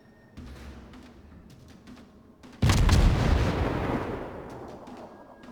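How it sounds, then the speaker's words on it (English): Heavy naval guns firing in the video game World of Warships, a deep loud boom that swells and rumbles away over a couple of seconds after quieter game sounds. "What the hell are you doing shooting his guns?"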